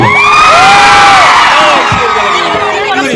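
A loud college crowd cheers, whoops and shouts together at a campus event, with excited young voices rising and overlapping continuously throughout.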